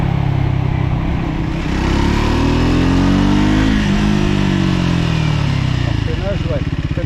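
A 2025 Triumph Scrambler 400X motorcycle being ridden, its engine droning loud and close with rising and falling revs, while a rider talks over it.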